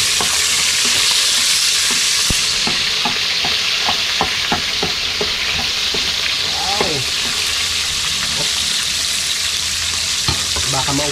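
Garlic sizzles and fries steadily in a hot pan for lunch, a dense continuous crackle with scattered sharper pops and spatters, close and fairly loud, no talking over it.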